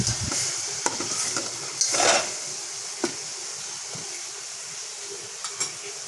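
Grated coconut cooks with sugar in a pan while it is stirred steadily, a soft close sizzle with scraping strokes and a few sharp ticks of the spoon against the pan.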